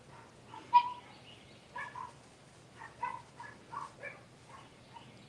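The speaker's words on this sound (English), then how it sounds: "It's really peaceful except for the dogs barking." Several dogs barking out a door, given as short bursts of barks spaced across the clip, moderately distant against a quiet, peaceful outdoor background.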